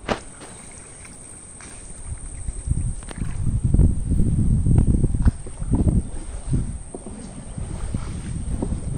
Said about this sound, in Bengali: দেন নৌকা টান দিবেন